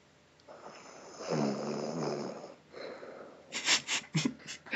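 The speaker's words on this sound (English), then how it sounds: "I want a clean snore recorded." A sleeping person snores in a quiet room, a long rasping inhale followed by softer breathy exhales and a few short snorting sniffs near the end.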